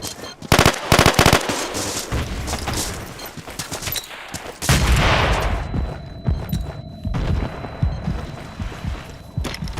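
In the Battlefield 2 game, a thrown frag grenade goes off loudly amid bursts of rapid gunfire. The shots crackle in dense, overlapping volleys, with a heavy blast midway and more scattered fire after it.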